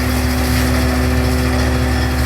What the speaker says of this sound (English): This guy's trimming the trees with this huge machine.